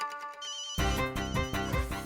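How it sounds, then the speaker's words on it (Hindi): A phone ringtone starts abruptly after a moment of quiet and plays a loud, bright repeating melody. "प्रिया डिकरी, तुम मुझे फोन क्यों कर रही हो?"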